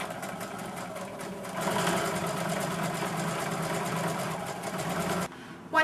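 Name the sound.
sewing machine stitching fabric with a quarter-inch seam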